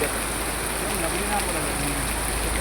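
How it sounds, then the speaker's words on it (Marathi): Dense, constant rain hiss filling the background, steady and unbroken, with a faint hum beneath. "पाऊस जेवढ्या जोरात चालू झाला"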